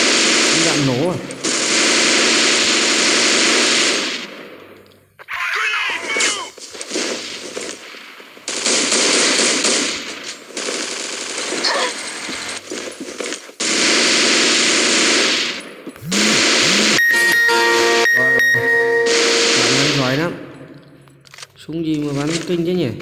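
Loud bursts of a six-barrel machine gun firing in the game CDHT, several sustained volleys separated by short gaps, with a person talking between and over the shooting.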